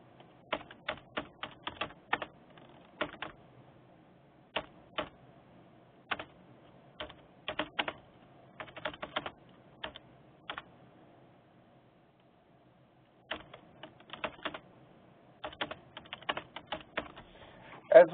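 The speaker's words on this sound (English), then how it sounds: "A descriptive information about the date and time of the event can be typed in." Typing on a computer keyboard, a close run of light, quick key clicks in uneven bursts, with a quiet pause partway through and no voices.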